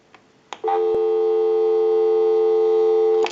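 A loud, steady telephone busy tone on a Radio Shack Bonnie & Clyde 43-321 candlestick telephone drones on after a couple of clicks, continuous for several seconds before cutting off.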